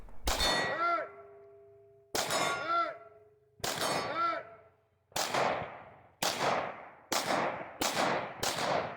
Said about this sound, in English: And a few of these steel targets take me a surprising number of shots to hit.